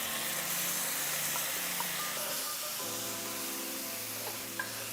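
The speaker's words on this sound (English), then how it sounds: "I went ahead and just stirred it up" Chili being stirred in a pot after roasted tomato sauce is added, a steady close sizzling, stirring scrape and steamy hiss running throughout with a few faint clinks.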